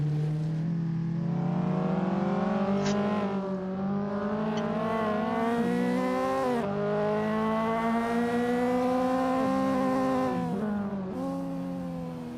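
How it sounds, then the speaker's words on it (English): A race car engine in the Assetto Corsa driving game during a touge sim-racing tournament winds up hard through its gears, rising pitch broken by quick upshift dips, loud and continuous with no talking. "Northern using the most of his gears, hitting that rev limiter, but it's definitely gaining him some time on Rumham"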